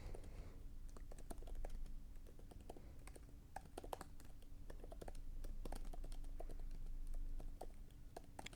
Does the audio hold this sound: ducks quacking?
no